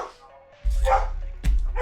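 A dog barks excitedly indoors, a few loud close yaps in quick succession, with a person's voice mixed in around them.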